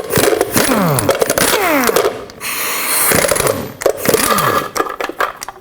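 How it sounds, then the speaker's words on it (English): A power tool fitted with a 22mm socket spins off the lug nut caps on a Chevrolet Express wheel, giving loud, close, whirring bursts with rising and falling pitch and brief pauses between them. "Take off all these little caps that hold this big cap that hides the lug nuts."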